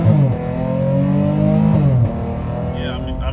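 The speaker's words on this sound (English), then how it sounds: "A little downshift." A supercharged car with paddle shifters revs hard, then drops pitch through a downshift, loud and close inside the cabin, with the engine settling to a lower drone afterward.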